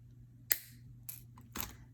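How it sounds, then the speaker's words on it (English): Flush cutters snip beading wire, giving three quiet, sharp clicks about half a second apart in an otherwise still room. "Come in very carefully and give it a little snip with the flush side."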